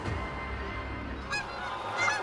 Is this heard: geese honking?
yes